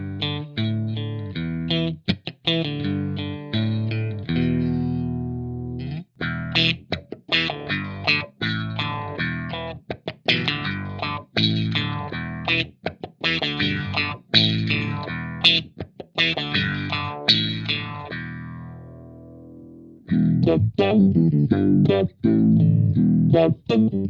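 A distorted guitar riff played through an effects pedal, with rapid, chopped rhythmic chords and brief gaps, loud and continuous, a thicker, fuller section kicking in near the end.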